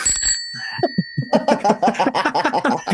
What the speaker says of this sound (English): ring the bell, ding ding